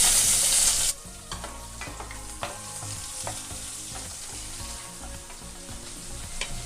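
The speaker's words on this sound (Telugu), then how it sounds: "తర్వాత ఉల్లిపాయ ముక్కలు వేసుకొని కలుపుకోవాలి." Onion pieces fry in hot oil with bay leaf, shahi jeera, cinnamon and cloves for leftover egg rice, giving a loud sizzle that settles into a steady crackle as a spoon stirs and scrapes the pan with occasional clinks, without any talking.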